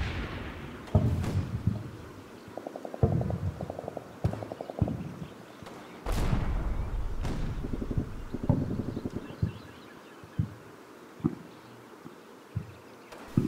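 A tank gun fires during a World War II combat battle in the Combat Mission video game. Heavy booms with trailing rumble mix with scattered clatter and sharp reports at moderate loudness, with no voices.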